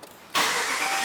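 A car engine fires up abruptly after a quiet moment and settles into a loud, steady broadband roar, close by, with no talking.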